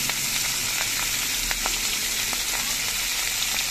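Meat frying in very hot oil, a loud, even crackling sizzle with small pops, close up and unbroken, no voices.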